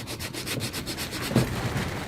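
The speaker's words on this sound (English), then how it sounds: "This is how I'm sanding this, just with a piece of timber, strip of sandpaper" A strip of sandpaper wrapped on a piece of timber rubs back and forth against wood in a slot, giving close, steady rasping strokes in a regular rhythm.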